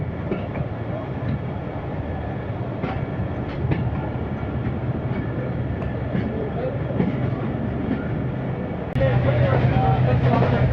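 Khushhal Khan Khattak Express pulling out of Jahangira Road railway station, a steady loud rumble of rolling wagons with faint clickety-clack throughout, growing louder near the end as the train gathers pace.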